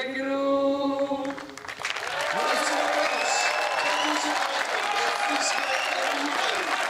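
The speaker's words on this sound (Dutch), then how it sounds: "Applaus voor de kampioen" A crowd at a Frisian pole-vaulting (fierljeppen) championship breaks into loud, sustained applause and some cheering for the champion, entering after a sung tone fades and continuing steadily to the end.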